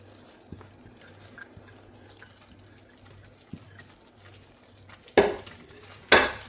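Spinach and masala are stirred together in a pan for a Kerala-style cheera curry. A low simmering bubble runs underneath, then two loud scraping strokes of a spoon against the pan close the stretch.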